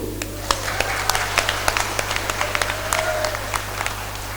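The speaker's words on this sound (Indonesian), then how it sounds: "Aplaus dulu." An audience at a public debate between regency candidates in Ketapang, West Kalimantan, claps in a loose round of applause. Sharp individual claps scatter over a steady hum, and a voice briefly sounds beneath them.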